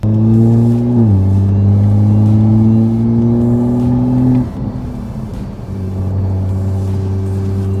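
A slammed 500hp Toyota Supra revs its engine in steady, rising pulls, drops pitch at a gear change, then settles into a lower idle-like rumble as it drives off, loud and close.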